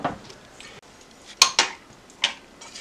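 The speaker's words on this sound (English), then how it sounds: "we'll take our spatula and clean out our pan" A spatula scrapes out a pan after cooking a low-carb vanilla custard: a few sharp, close metallic scrapes and clinks spaced over a couple of seconds, with no voices.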